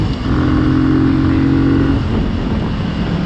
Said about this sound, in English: And brake. Oh, I locked it up a little bit.